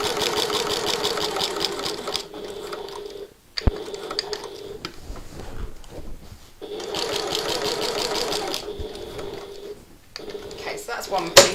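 A domestic sewing machine stitches a tote bag in steady close mechanical bursts, pausing briefly at corners to pivot before running again.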